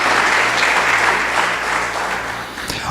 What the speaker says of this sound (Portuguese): As palmas para ele, aleluia.